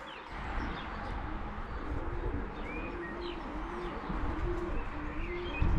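Racing pigeons cooing in low repeated phrases with occasional chirps, set against a steady broad background rumble, fairly close and continuous.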